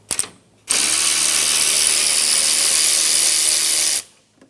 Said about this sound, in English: On the front side of the bumper support, remove the 10mm bolt on the condenser lines.